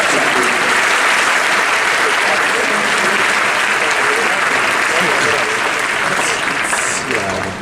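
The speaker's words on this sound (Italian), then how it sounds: "vi invito a salutarli con un applauso" A school audience gives loud, sustained applause to welcome four former students at an evening event, a thick continuous roar of clapping with voices mixed in underneath.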